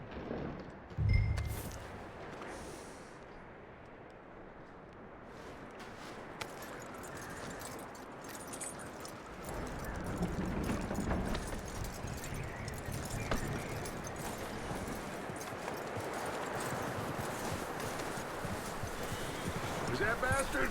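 Horse hooves clip-clop steadily in the Red Dead Redemption 2 video game, a moderately loud rhythmic walking gait that runs throughout beneath game dialogue and ambient sound.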